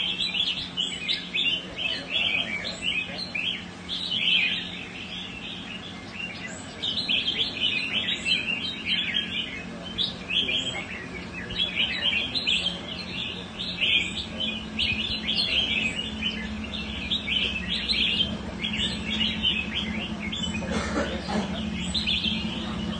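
A pet songbird kept for competition chirps in rapid, bright bursts of song throughout, moderately close and steady, with a low background hum underneath.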